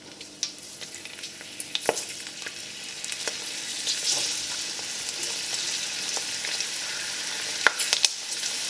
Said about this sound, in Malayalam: അപ്പോൾ ദാ നമ്മൾ ഉണക്കി വെച്ചിരിക്കുന്നത് ചൂടായ എണ്ണയിലേക്ക് ഇടുവാണ്.